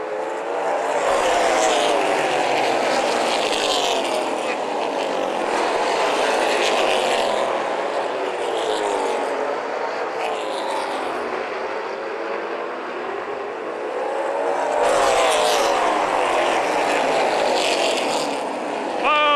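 Race cars circle New Paris Speedway during the 2013 Summer Sizzler 100, a loud, dense engine drone that swells sharply as the pack sweeps past, fades, and surges again.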